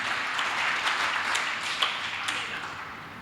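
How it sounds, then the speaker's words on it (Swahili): A church congregation applauds during a sermon, a steady patter of many hands clapping at moderate volume that fades slightly toward the end. "Jipigie makofi."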